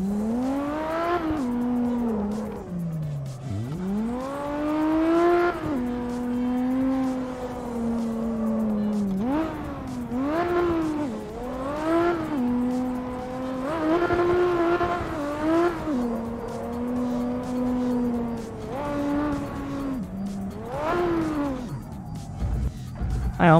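Toyota Supra in CarX Drift Racing game, its engine wailing and revving through rising and falling pitch sweeps while tires squeal during drifts, loud and continuous with no talk.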